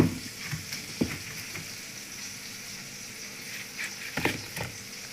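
Chicken fries in a pan during Ramadan iftar cooking, giving a soft, continuous sizzle broken by a few sharp clicks and knocks of stirring.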